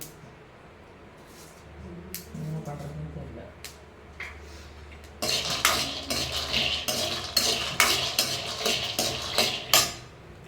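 Freshly roasted peanuts clatter out of a pan onto a plate in a run of loud rattling bursts, after a quieter stretch of kitchen clinks and someone speaking.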